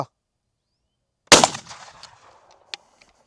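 A shotgun fired with a 20-metre container wad: one sharp, loud blast breaks the silence and trails off in a decaying echo, followed by a couple of faint distant cracks.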